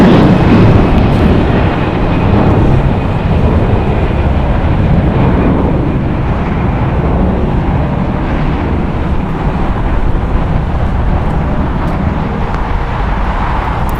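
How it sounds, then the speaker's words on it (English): An Air Canada Airbus A321 jet, 21 years old, departs from LAX. It makes a loud, steady, broadband roar with deep rumble that holds without a break throughout. "Departing Air Canada Flight 790, going to Toronto. It's an Airbus A321"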